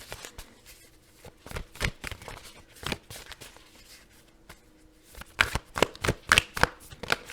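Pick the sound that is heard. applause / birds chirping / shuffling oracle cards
shuffling oracle cards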